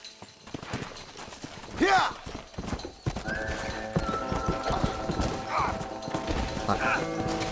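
In the Western video game Red Dead Redemption, a horse gallops with rapid clip-clop hoofbeats and a loud whinny, amid crashes and game sounds, while a person talks over it.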